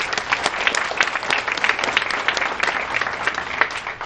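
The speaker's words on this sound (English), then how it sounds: "they also deserve a round of applause" A room full of attendees at a Senior Olympics kickoff event breaks into steady, dense applause, many hands clapping together at a moderate distance for several seconds without pause.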